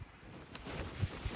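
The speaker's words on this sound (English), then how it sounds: "These are very strong gusts." Strong wind gusts on a rocky mountain trail in the White Mountains, heard as faint, low buffeting rumbles that swell and fade in short pulses against the microphone.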